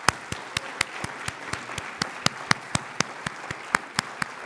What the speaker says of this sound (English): we applaud Congressman Mike Lawler